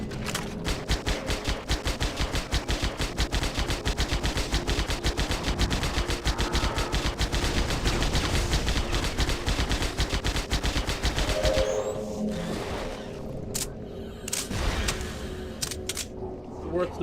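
Rapid automatic gunfire in Halo Campaign Evolved, a long continuous burst of fast rattling shots, then scattered single shots near the end.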